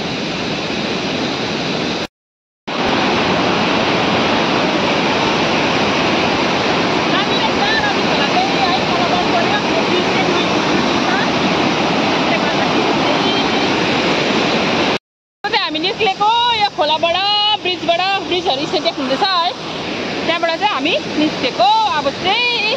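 The Rambi Khola river roars steadily and loudly, with two brief dropouts. A voice speaks over the rushing water toward the end.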